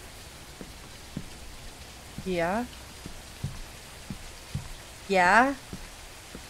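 Rain falls steadily on a surface as a soft, even patter, with two short spoken exclamations over it and a few faint taps in the background.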